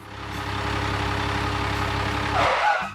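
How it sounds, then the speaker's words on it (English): A wood transporter truck's engine idles and runs with a steady low diesel rumble that swells slightly near the end as the truck arrives. "Look, the wood transporter is coming."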